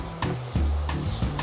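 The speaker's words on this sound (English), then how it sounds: "And stir well." Cassava flour farofa is stirred in a pan, with several scraping strokes repeating at a quick rhythm over a soft sizzle, close and with no talk.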